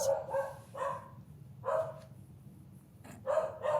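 A dog barks in the background in several short bursts of two or three yips each, with pauses between, moderately loud and set against quiet room tone.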